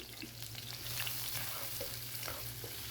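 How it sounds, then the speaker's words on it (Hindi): Finely chopped onion with ginger fries in oil in a kadai for a white lobia masala curry, making a soft, even sizzle with faint stirring, quiet and steady with no voice. "कढ़ाई में मैंने ऑयल डाला है और ऑयल में एक अदरक कटा हुआ है, बारीक कटा हुआ प्याज डालेंगे"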